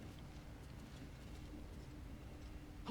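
A bird cooing in the video game Baldur's Gate 3, soft pigeon-like coos that are faint and low in level beneath a steady ambient background hum.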